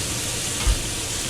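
Bacon sizzles in a cast iron pan, a steady dense crackle that fills the whole clip with no talking.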